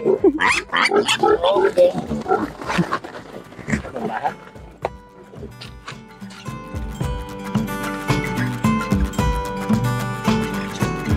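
Two pigs grunt and oink loudly and close by in quick, rough bursts, with squeals mixed in. Further on, the grunts fade behind louder music and people talking.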